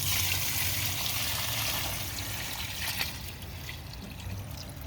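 Dirty aquaponic filter water full of gunk is poured onto plants, a steady close trickle and splash that tapers slightly toward the end.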